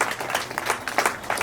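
Applause from an audience at a community event, a broad steady patter of many hands clapping close by, with no talk over it.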